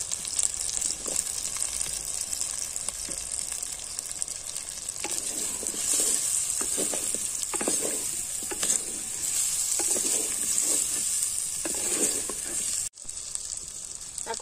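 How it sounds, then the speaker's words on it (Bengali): Potatoes going into a sizzling pan of cooked-down masala for a fish curry, a constant loud sizzle with periodic stirring scrapes and a brief cut near the end. "মশলাটা আমার কষানো হয়ে গেছে, এখন আমি এই পর্যায়ে আলুগুলোকে দিয়ে দেব।"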